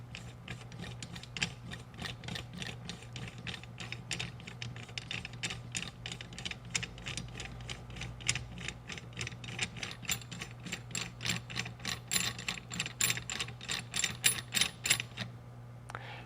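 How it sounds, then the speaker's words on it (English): A compression tool's adjuster screw is turned into an Eaton Carter ground fueling hose-end pressure control valve, compressing the piston inside. Steady rapid ratchet clicks run throughout, close and fairly quiet, with no talk. "we're going to start screwing the adjuster further in, thereby compressing the piston inside the body"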